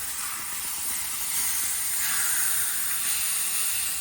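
Swordfish steaks sizzle in a hot pan as they are flipped, a steady, loud, close hiss that swells slightly midway and runs without a break or any talk.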